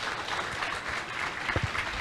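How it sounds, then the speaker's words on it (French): Audience applause for a group of school students at a memorial event, a steady wash of clapping from a room full of people, sustained and moderately loud. "On peut les applaudir, ils ont été cool."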